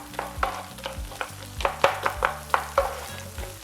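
Potatoes frying in oil in a pan for breakfast burritos, a steady sizzle broken by repeated scraping stirs and taps of a utensil against the pan, close up with no talking.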